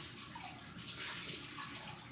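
Hot water gushes steadily from a kitchen tap while 2 cups are measured out for white bread dough, a close, even rushing hiss with no voices.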